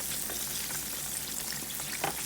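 Chicken sizzles and crackles in hot oil with a steady, moderate frying hiss and occasional pops, no talking.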